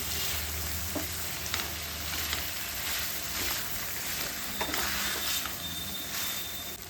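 Prawn fry with ground spice powder sizzles steadily in a pan, with occasional scraping stirs of a spoon through the mixture, moderately close with no voices.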